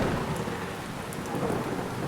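Rain pours steadily in a forest, with low thunder rumbling beneath the dense hiss of the downpour throughout, close and continuous with no voices.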